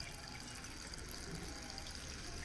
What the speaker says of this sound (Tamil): இந்த ஃபவுண்டைன்லேருந்து வர தண்ணி சத்தம் ரொம்ப அப்படியே மனசுக்கு இதமாக இருக்கும்.